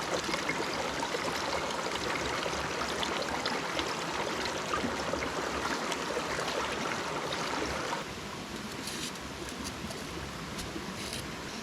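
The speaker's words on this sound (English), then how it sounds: "I have to cross this little stream here" A small stream flows steadily along a backpacking trail, a close, continuous rush and babble of water that eases slightly in loudness partway through.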